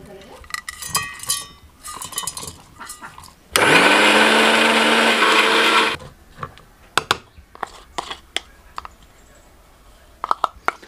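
An electric mixer grinder whirs loudly and steadily for about two and a half seconds while blending masala paste for an Assamese pigeon meat curry, with clinks and handling noises before and after.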